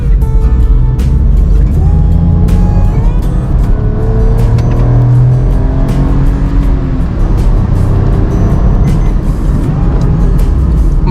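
A 2022 Maruti Alto K10 AMT accelerates hard from about 30 toward 80, its small engine note rising steadily under loud road and wind noise, with traffic passing nearby and no talking.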